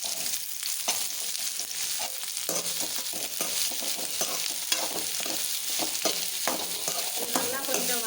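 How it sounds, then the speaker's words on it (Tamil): Ridge gourd sautés in a hot pan with a dense, continuous sizzle and frequent scraping stir strokes, close and steady throughout without talk. "அதோடைய பீக்கங்காயும் போட்டு வதக்கிடுவோம்."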